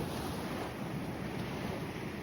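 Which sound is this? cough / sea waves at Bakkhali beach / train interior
sea waves at Bakkhali beach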